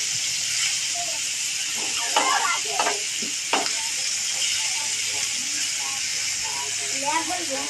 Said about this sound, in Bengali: এগুলাকে আমি ভালো করে লাল লাল করে ভেজে নিব